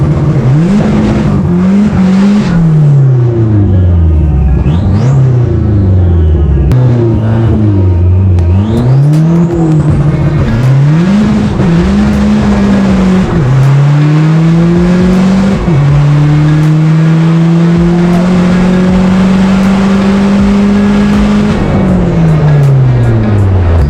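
A race car at a track day runs loud and close, its engine revving through rising and falling gear changes with sustained high-rpm pulls and occasional tire squeal, with no talk.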